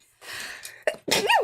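A single sneeze indoors: a short intake of breath, then a sharp explosive burst with a brief vocal trailing tone, close and fairly loud.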